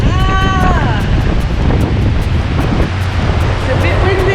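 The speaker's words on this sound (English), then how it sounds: "It's a bit windy." Strong wind buffets the open deck of the P&O Oceana cruise ship at sea, a loud continuous roaring rush with a voice briefly heard over it.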